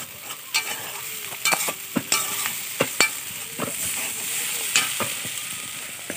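A home cook stirs food frying in a pan, with a soft ongoing sizzle under repeated sharp scrapes and clinks of a spatula against the metal, sounding close and irregular.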